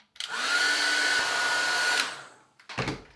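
Hair dryer blowing over a watercolour painting, a close, loud steady whoosh with a high whine that runs for about two seconds, cuts off, and is followed by a brief thump.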